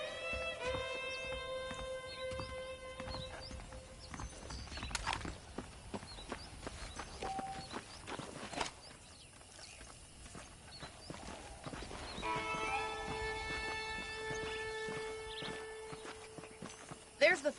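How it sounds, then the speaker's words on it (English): Saddled horses clip-clopping at a walking pace in the Red Dead Redemption western video game, with a steady rhythm of hoofbeats, an occasional whinny and someone talking over them. "The horses are saddled up over here."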